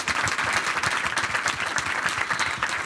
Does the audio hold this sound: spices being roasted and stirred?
no